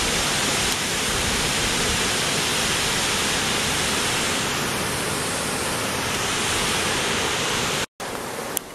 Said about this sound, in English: That noise you hear is Laurel Falls just roaring.